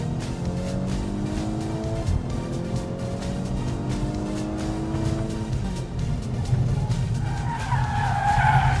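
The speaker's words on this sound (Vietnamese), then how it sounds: "Tăng tốc." A Volkswagen Scirocco R accelerates hard on a test drive, its engine note climbing through the gears while the tires squeal loudly. The screech grows louder and harsher toward the end, and no one speaks.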